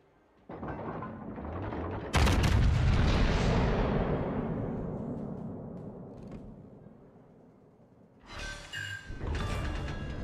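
An enemy destroyer blows up under gunfire in the naval battle game World of Warships: a loud booming explosion that rumbles and slowly fades, followed by fresh bursts of firing and mechanical clatter.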